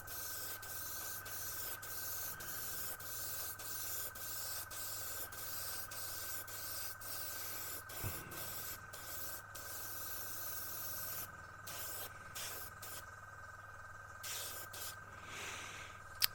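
An airbrush laying down a fine misty blend coat of paint on a model truck cab, a soft continuous hiss broken by short bursts and a few small clicks, faint and close.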